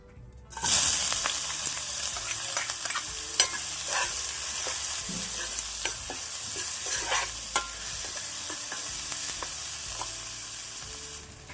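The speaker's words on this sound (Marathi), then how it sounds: "मी आता तेल तापण्याची वाट बघत नाही डायरेक्ट त्यामध्ये कांदा ऍड करते मी" Sliced onion hits a hot kadhai with oil for a dried shrimp javala dish and bursts into a loud sizzle. A steady crackling fry follows for several seconds, broken by occasional scrapes and knocks of stirring, with no voices.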